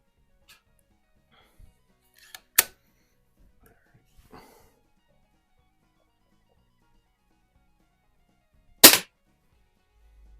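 Two sharp, close shots from a Hy Score model 819 (Diana 10) air rifle, freshly resealed, ring out several seconds apart in a quiet setting, with faint handling sounds between them.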